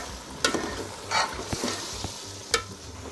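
Chicken karahi frying with ground coriander in a wok makes a soft constant sizzle, broken by sharp metal spatula clinks and scrapes at irregular intervals, close and moderately quiet, with no one talking.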